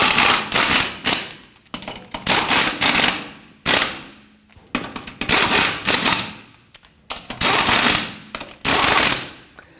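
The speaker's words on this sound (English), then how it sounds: "It's going to torque down our lug nuts to 100 foot-pounds, and we prefer to do this in a crisscross pattern." An impact wrench tightens lug nuts on a Jeep Patriot wheel in crisscross order. It fires about a dozen loud rapid rattling bursts close by, each lasting about a second, with short pauses between them.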